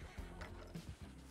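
A horse whinnies and snorts in the Red Dead Redemption video game, short harmonic neighing bursts over a low rumbling game soundtrack, moderately close and loud.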